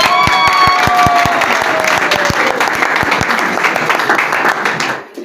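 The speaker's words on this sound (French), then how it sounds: "acclamez pour vous-même." A church congregation breaks into loud, sustained applause, with a few sharp claps early on, the crowd clapping continuously before fading out at the end.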